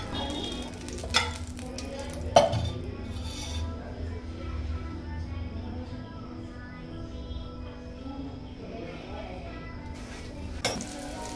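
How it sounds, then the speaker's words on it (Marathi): Ghee melting on a hot griddle while a bottle gourd paratha cooks: a soft, continuous sizzle with a few clinks of a spoon against the pan, and someone speaking quietly over it. "थोडंसं मी तूप टाकते तव्यावर,"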